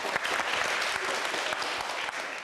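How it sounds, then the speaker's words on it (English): Schoolchildren at Barton Hill clap together for a Countdown guest in a classroom, a dense, steady burst of applause lasting a couple of seconds with no talking. "let's give Rachel a clap"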